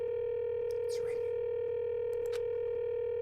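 In the video game Danganronpa 2: Goodbye Despair, a phone line connects and rings with no answer, heard as a steady, unbroken electronic tone with a few faint chirps and blips over it.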